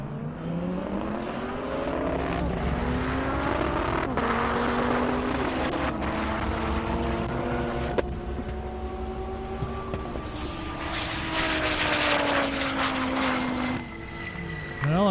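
Dodge Viper launching in a half-mile drag race down an airport airstrip, a loud engine roar rising through gear shifts as it pulls away, heard from the sidelines.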